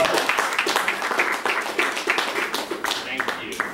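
A short burst of clapping from a small group at a gallery art exhibit, brisk and fairly close, lasting a few seconds.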